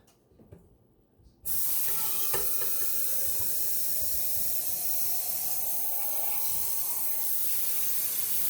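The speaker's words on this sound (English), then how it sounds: "we're going to pour water about a quarter of the way up" Water runs steadily from a tap into a shallow cookie-sheet pan for a cheesecake water bath, a loud continuous hissing splash that starts abruptly after a quiet moment and keeps going to the end, with no talking.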